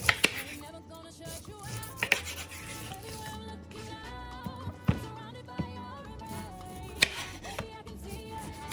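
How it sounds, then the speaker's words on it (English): A knife dices pineapple on a cutting board, producing repeated sharp chops and scraping strokes at an uneven pace, close up over a background of steady music. "Of course, I had to go ahead and start dicing up the pineapples first."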